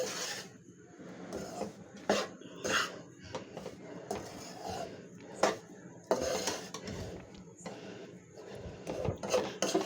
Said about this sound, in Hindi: अब हमने तमाम चीज़ें उसको मिक्स करना है